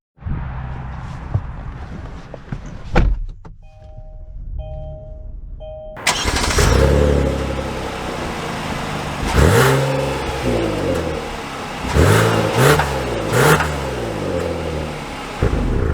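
A 2022 Kia Telluride EX FWD starts with a chime and a quick crank, then its engine catches, idles and revs through several rising accelerations while pulling away. The engine is close and fairly loud, with no voices.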